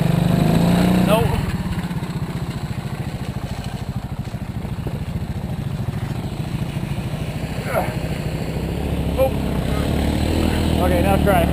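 A dirt bike engine runs steadily on a trail ride with a low, rough putter that stays close and constant, while people talk over it.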